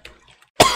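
A single short, sharp cough bursts out close to the microphone after near silence.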